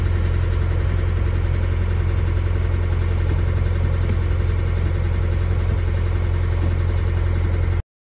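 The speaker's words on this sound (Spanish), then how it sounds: "el sonido es el de un diésel antiguo, algo más rudimentario, y el ralentí nos queda, como he dicho, algo elevado" An old diesel engine with Delphi common rail injection idles slightly high, a loud, steady, close rumble with an even mechanical clatter and no variation in pace, running alone until it cuts off at the end.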